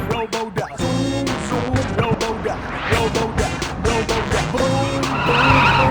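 A car skids without braking, a loud scraping slide that runs for several seconds over busy music-like tones, swelling toward the end.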